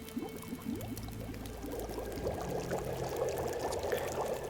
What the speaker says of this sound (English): take the half a liter that you just melted and boil it up